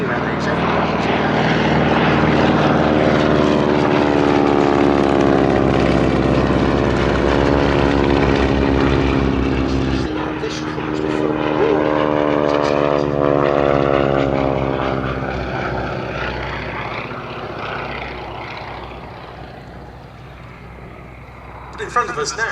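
Spartan 7W Executive propeller aircraft passing in flight at an air display, its loud droning radial engine rising and sweeping past with a clear pitch drop, then fading into the distance while a commentator talks over it.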